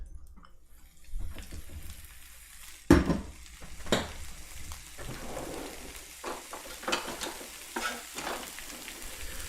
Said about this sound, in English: I'm going to just add some ground pork to this pan